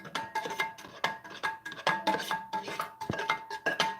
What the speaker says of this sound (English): go, stir the coffee